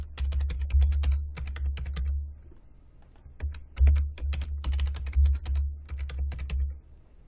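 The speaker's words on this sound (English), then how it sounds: "then we'll go ahead and type in that new password" Password typed on a computer keyboard: bursts of close, crisp key clicks in quick irregular runs, with brief pauses between groups and no talking.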